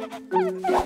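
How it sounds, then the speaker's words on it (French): A puppy trapped under a pile of old tyres gives a few short, high whimpers and yelps in quick succession, close by, with a tonal whining quality. "Il y a un chiot en train de gémir sous cette pile de vieux pneus"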